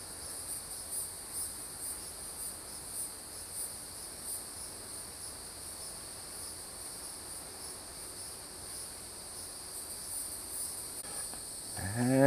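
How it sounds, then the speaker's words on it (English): A steady high-pitched chorus of cicadas and other insects buzzes and pulses continuously in the background, fairly faint, with a brief low rumble at the very end. "you can hear all the cicadas and insects just chirping."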